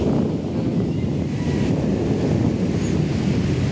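Sea waves surging into a beachside resort, sweeping away tables and reaching moored boats; a loud, continuous churning roar of surf and wind buffeting the microphone, steady throughout with no voices.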